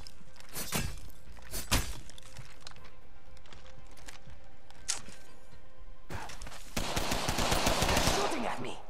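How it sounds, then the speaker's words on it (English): Video game gunfire in an Apex Legends-style battle: sharp, isolated shots crack early on, then a dense, rapid burst of automatic fire rattles near the end, with brief voice moments in between. "Shooting at me."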